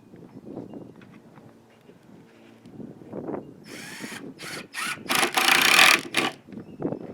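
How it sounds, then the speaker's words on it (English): A power drill drives screws into plywood while a skateboard grind box is being assembled, giving several loud whirring bursts in the second half, after quieter handling and shuffling sounds. "You just want to barely sink your screws into the plywood."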